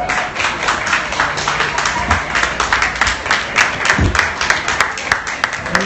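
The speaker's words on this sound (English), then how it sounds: "please, a round of applause for Sara" A crowd at a Shoreditch BoxPark Q&A applauds for an artist, with dense, close hand clapping running throughout in uneven bursts and faint voices mixed into the clapping.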